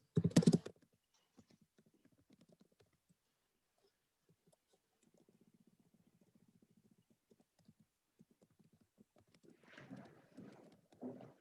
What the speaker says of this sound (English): you type in the address